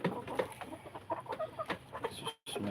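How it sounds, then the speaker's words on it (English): Chicken in a home garden gives short, scattered clucks and soft calls close by, with no talk, and stops abruptly near the end. "The chicken."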